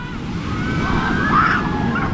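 Ocean waves surging on a New Zealand beach, a broad rushing wash of surf and wind noise rising toward the end, with a faint voice-like tone briefly over it.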